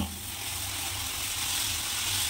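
Dosa batter sizzling on a hot pan, a steady close hiss of frying that holds evenly without pause.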